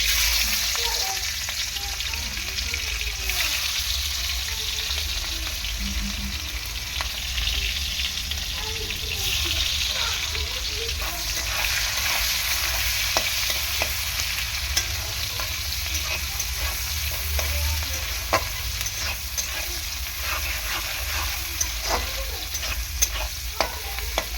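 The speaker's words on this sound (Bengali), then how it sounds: "তেলটা খুব ভালো করে গরম করে নিয়েছি। দিয়ে দেবো পেঁয়াজ।" Onions fry in well-heated oil in a wok, giving a loud, steady sizzle close by. Repeated stirring and scraping sounds run through it for the full length, with no one speaking.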